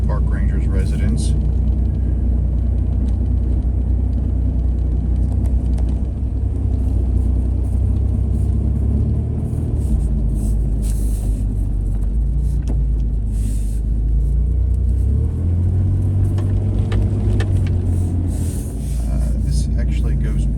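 A car drives along a road in Montgomery Bell State Park near Dickson, Tennessee, with a steady low engine and tyre rumble from inside the vehicle while someone talks.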